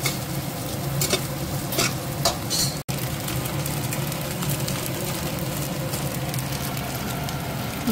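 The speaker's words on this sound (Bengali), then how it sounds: "ম্যাগি ডান আমার অলমোস্ট। আরেকটু ভাজা ভাজা করে নেব" Maggi instant noodles tossed with Maggi masala fry in a pan, a steady broadband sizzle with scraping stir strokes throughout, close and fairly loud, no talking.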